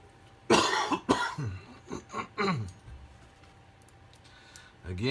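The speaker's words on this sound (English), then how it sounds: "I'm sorry about coughing so much." A man with bronchitis coughs in several harsh, close bursts in quick succession, followed by a pause and one more cough at the end.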